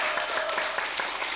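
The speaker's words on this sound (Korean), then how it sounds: "박수 한번 주시기 바랍니다" A short burst of audience applause at a Korean live event, dense even clapping from a crowd for just over a second.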